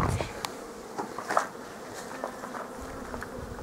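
Honeybees buzz around an opened hive being readied for winter, a soft steady drone close by with a few brief louder passes, under quiet talk.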